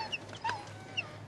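A dog whines in brief, faint, high-pitched whimpers, three short cries in just over a second, with small chicks nearby.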